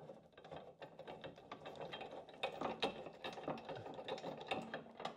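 A ratchet wrench fitted with a deep reach socket clicks in quick, uneven bursts while fitting a spare wheel cradle and jack mount on a new Land Rover Defender, fairly faint and close with no voices.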